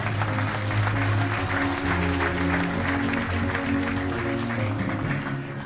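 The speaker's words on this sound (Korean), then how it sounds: "여러분 큰 박수 부탁드립니다." An audience at a formal Korean national campaign declaration ceremony claps loudly and steadily for several seconds, with low hum and background voices under the applause, tapering slightly at the end.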